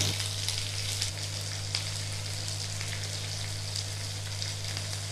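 Green chillies hitting hot oil in a pan for a quick bhindi masala, giving a steady, close, bright sizzle and crackle that holds evenly throughout with no talking.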